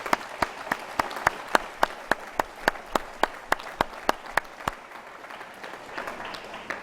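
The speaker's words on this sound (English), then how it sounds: "So let's a round of applause for our speakers." Convocation audience applauding the speakers, with crisp, regular claps close by standing out over a softer crowd background. The clapping thins out toward the end.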